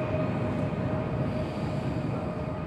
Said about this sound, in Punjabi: ਆ ਗਈ ਆ ਬੁਲਟ ਟ੍ਰੇਨ, ਜਾਊ ਬੁਖਾਰੇ ਨੂੰ ਹੁਣ ਇੱਥੋਂ।